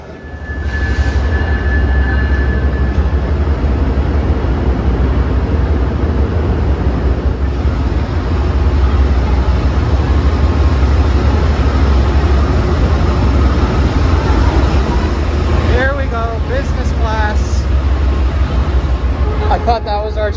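An Amtrak train pulls into a station with a loud, steady low rumble that holds for about twenty seconds, while a few high squeals and chirps break through near the end.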